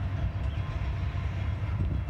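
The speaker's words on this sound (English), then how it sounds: "Must be an intermodal freight train coming." Norfolk Southern intermodal freight train on the move, a brief steady low rumble with a muffled rolling rattle, fairly quiet and without voices.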